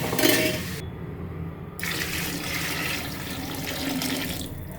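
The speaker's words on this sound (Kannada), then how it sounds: "ಒಂದು ಡಬ್ಬಲ್ ನೀರು ಹಾಕ್ತಿದ್ದೀನಿ." Water poured from a container into a pot of soybean rice, a close, steady gushing splash that runs unbroken for several seconds, with the tone shifting as the pot fills.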